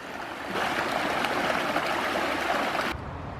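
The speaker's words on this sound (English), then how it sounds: "This here is the bank of 40-mile Creek" Water flows steadily along the bank of 40-mile Creek on the escarpment, a constant close rushing wash with no voices that holds for about three seconds before dropping back to a duller background.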